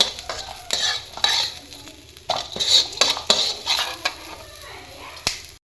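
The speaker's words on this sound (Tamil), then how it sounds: "கொஞ்சம் ஆனியனும் பூண்டும் ப்ரௌனிஷ் ஆகிறதுக்கு நல்லா வறுத்துக்கோங்க." Onion and garlic fry in a pan for egg salna, with repeated spatula scrapes and clinks against the metal over a soft sizzle in uneven bursts.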